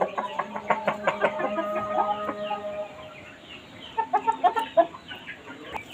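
Young Shamo chickens, European-line chicks about three months old, cluck and chatter in a breeding pen, a busy burst of calls at the start easing off, then a fresh run of short clucks near the end.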